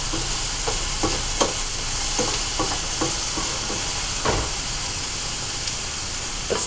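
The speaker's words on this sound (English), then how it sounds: "we're going to put the ham in at the last minute, because we're not cooking the ham. We're just heating the ham." Ham heating in a frying pan: a steady hiss of sizzling fat with a scatter of soft clicking taps and stirring scrapes, fairly close and without talk.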